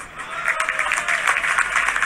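Audience at a Chhattisgarh political rally applauding in a dense, sustained burst of clapping, close and fairly loud, lasting a couple of seconds.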